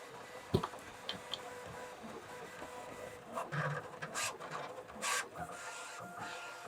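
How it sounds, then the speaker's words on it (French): Steady mechanical whirring and rasping of a Bambu Lab P1P 3D printer at work, with faint ticks and brief scraping bursts, heard close and without talk. "la vitesse à laquelle elle imprime"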